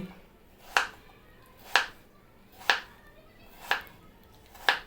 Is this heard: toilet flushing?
no